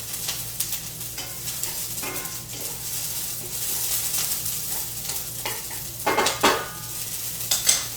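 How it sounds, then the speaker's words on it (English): Scallions sizzle in a hot pan with a steady crackling hiss, punctuated by a few sharp scrapes and clinks of a utensil stirring against the pan. "Get that nice sizzle so I know it's cooking."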